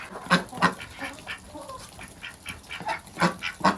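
Several domestic ducks, three hens and a drake, quack nearby in repeated short bursts, some in quick pairs, with quieter calls in between, during frosts below -20°C.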